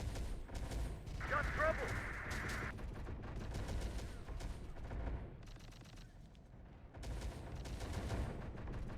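A rocket volley fires in the video game Terminator Dark Fate Defiance, a rumbling run of launch blasts and distant impacts over a low battlefield drone, with a brief whistling tone partway through.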